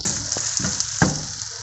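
Small green chilies and half a tomato fry in a pan, a soft steady sizzle with a few brief pops and stirring scrapes.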